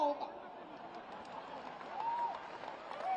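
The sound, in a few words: applause from a poetry recital audience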